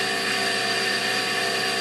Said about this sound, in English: Now, I do a wet sanding, simply because I feel that it cuts better and gives me a better finish overall.